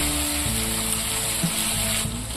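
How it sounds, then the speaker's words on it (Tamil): Ginger garlic paste sizzles steadily in hot oil in a pan for a curd chicken curry, a loud, close, continuous frying hiss with no talk. "இஞ்சி பூண்டு பேஸ்ட்டு எண்ணெயில் வதங்கி நல்லா மனம் வந்துருச்சு"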